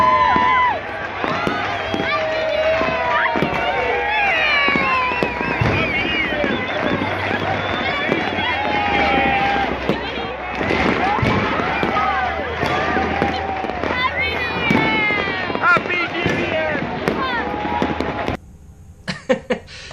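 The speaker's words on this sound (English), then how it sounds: "So we're standing in this big square at midnight, and they're just going off all around, literally all around." Fireworks burst all around a large crowded square in Antigua at midnight, with a continuous crackle of bangs and pops amid crowd noise, cheering and people talking close by.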